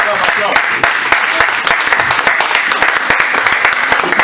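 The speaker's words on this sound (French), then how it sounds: "Est-ce que tu peux acclamer la parole de Dieu?" A church congregation at a French-language seminar service applauds, dense continuous clapping with crisp individual hits, loud and close, with voices mixed in underneath.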